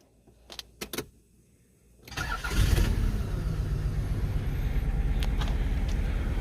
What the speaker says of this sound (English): Well, car still started up pretty quickly